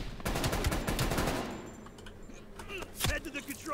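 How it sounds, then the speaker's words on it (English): Rapid gunshots from Call of Duty: Black Ops Cold War crackle in a dense, close volley, fading into a quieter stretch before a single sharp shot rings out again near the end. "I hear fucking shots, but I don't see shots."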